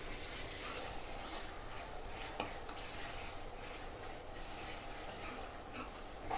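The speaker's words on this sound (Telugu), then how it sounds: "అల్లం పేస్ట్ స్మెల్ పోయేదాకా వేయించుకోవాలి." Onions and ginger paste frying for chicken curry give off a steady, even sizzle with occasional faint clinks of a stirring utensil against the pan, continuous and moderately close.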